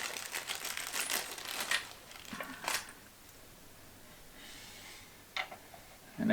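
Long screws for a corner mirror assembly are handled in a few sharp metallic clinks and rattles, close and fairly quiet, clustered at the start with a couple of isolated ticks later.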